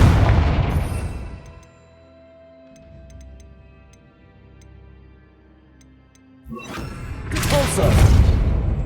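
A Confringo spell blast in the video game Hogwarts Legacy: a loud burst of impact and explosion noise opens, fades to quiet ambience with faint ticks, then a second heavy blast rises near the end.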